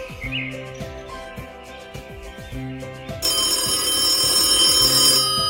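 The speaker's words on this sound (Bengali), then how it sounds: "ফোনটা বেজে উঠল।" A telephone rings in an animated Bengali fairy-tale story: soft tonal background sounds give way partway through to a loud, continuous bright trilling ring that lasts to the end.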